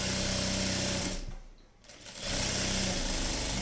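A sewing machine runs steadily while stitching a night dress seam, a dense continuous whirring drone that cuts out briefly midway, then resumes at the same even pace, close and loud.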